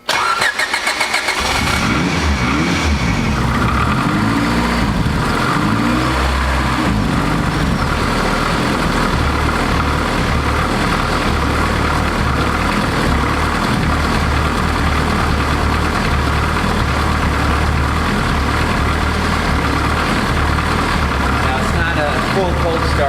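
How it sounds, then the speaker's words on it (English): A Honda Civic engine, fresh from a coil-on-plug upgrade and still warm, cranks briefly, fires, and settles into a steady, loud idle. "Full cold start, the engine is still warm,"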